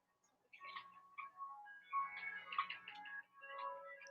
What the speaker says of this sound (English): Someone's phone going off